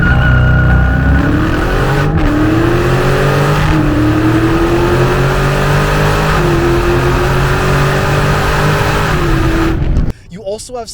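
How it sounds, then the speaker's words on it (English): A Dodge Challenger Scat Pack launches hard using launch control. The loud, close engine roar climbs steadily through several gear changes, each marked by a short dip before the pitch rises again, then cuts off near the end. "you have a launch button and you can select the RPMs you'd like to launch at"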